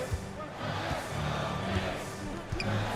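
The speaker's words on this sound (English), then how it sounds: "The crowd loving it." A crowd cheers at a basketball game, a continuous dense roar of many voices that holds steady over a few seconds with scattered shouts rising above it.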